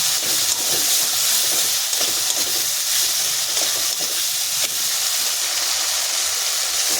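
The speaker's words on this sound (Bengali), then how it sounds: "এক চামচ হলুদ গুঁড়ো মশলাটাকে আবারও ভালো করে কষে নেব" A spiced masala with salt and a spoonful of turmeric sautés in a pan for coriander chicken, giving a steady, close sizzle and hiss with soft stirring scrapes throughout, and no voices.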